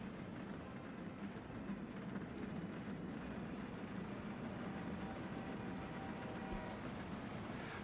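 A train rolls by on the rails, a steady broadband rumble and rush that holds evenly throughout with no voices.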